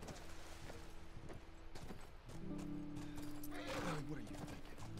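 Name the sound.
horses neighing in The Last of Us Part II video game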